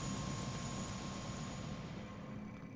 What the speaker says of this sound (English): Sounds a lovely helicopter ride